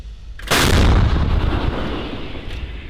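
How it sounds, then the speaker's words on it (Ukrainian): An American M777 howitzer fires in the Russian-Ukrainian war, giving one sharp, loud blast followed by a long rolling rumble that fades slowly, with no voices. "Перші постріли американської гаубиці М 777 на російсько-українській війні."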